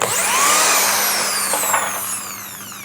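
A Dongcheng DJZ10-10 electric drill whirs steadily at close range, a continuous high motor whine with slight pitch shifts, alone without speech.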